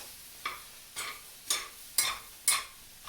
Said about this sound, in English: Some are stuck to the bottom of the pan, so I'm going to try to free my onions.